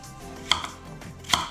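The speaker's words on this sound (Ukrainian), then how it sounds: "Помідорки нарізаю скибочками." Two sharp knife cuts slicing tomatoes on a board, spaced about a second apart, close and crisp in an otherwise quiet room.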